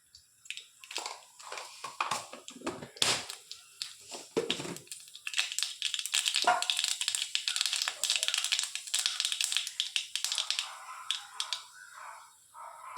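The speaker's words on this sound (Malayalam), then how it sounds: "എണ്ണ ചൂടായിട്ടുണ്ട്, അതിലോട്ട് കടുക് ഇട്ട് കൊടുക്കാം." Mustard seeds crackle and pop in hot oil for a Kerala mango pickle, giving dense irregular crackling that builds and continues steadily at close range with no talk.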